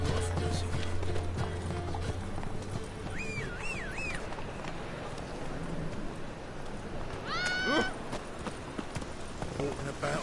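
Horse hooves clip-clop at a steady run in The Witcher 3, a continuous rhythmic patter heard up close beneath game music and occasional spoken lines.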